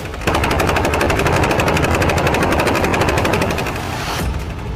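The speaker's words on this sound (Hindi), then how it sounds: "1 मिनट में ये गन 800 राउंड फायर करती है" A 20 mm aircraft gun rated at 800 rounds per minute fires one loud, sustained burst of rapid, evenly spaced shots for about four seconds before cutting off.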